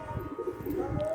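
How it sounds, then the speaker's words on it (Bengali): A crested pigeon gives a single brief, soft coo at close range, fairly quiet, with no talking. "খুব ভালো পায়রা"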